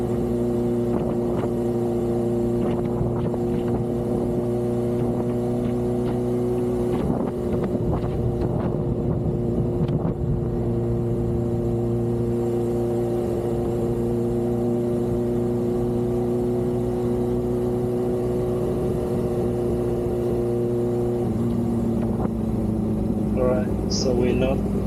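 Kawasaki Ninja H2 motorcycle cruising along a shorefront road near Melbourne, a steady droning engine hum with wind rush held constant throughout, while a rider talks over it.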